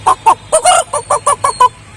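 A man imitating a rooster's crow with his voice, a quick series of about nine short, loud, nasal honking syllables close to the microphone, ending in a brief trailing note.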